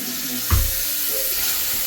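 Mint leaves, onion and coriander sizzling in a hot pan, with a single sharp stirring scrape partway through over a steady frying hiss.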